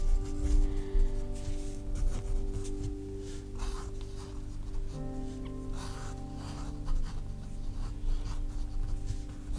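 A fineliner pen scratches and rubs on paper while a flower is drawn, producing soft, steady strokes close by, set against a low background hum with no speech.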